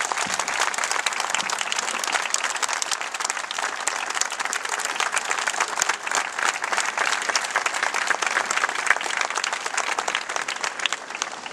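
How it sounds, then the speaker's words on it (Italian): A large crowd at an outdoor Madonna della Pescheria feast in Portogruaro applauds in memory of a local monsignor, with dense, sustained clapping that stays even and loud throughout. "vi invito tutti a un grande applauso per ricordare Monsignor Pierluigi Mascherini"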